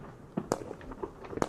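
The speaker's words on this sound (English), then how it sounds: "Let's enjoy the fireworks show" New Year's fireworks pop and crack a few times at a distance, sharp scattered bursts spread over a brief quiet stretch.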